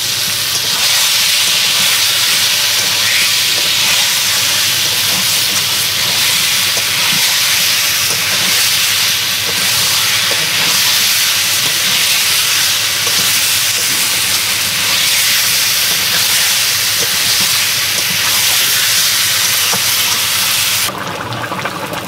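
Water poured onto fried potatoes and spices in a hot pan for papad curry sets off a loud, continuous steam hiss that lasts about twenty seconds and then cuts off, with no voices.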